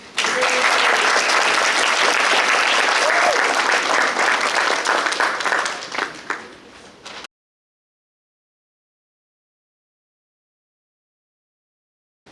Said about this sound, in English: can we get a round of applause for the 2025 graduating class?